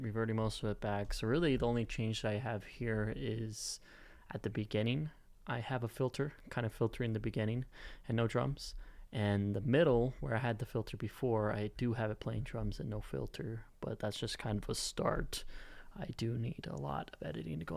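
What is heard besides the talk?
No everyday noise stands out behind the speech.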